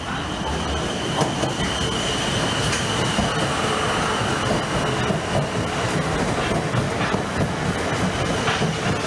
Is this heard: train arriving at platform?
yes